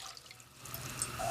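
Water being poured into a cooking pot for making sweet couscous, a soft, faint trickle and splash that builds gradually over about a second.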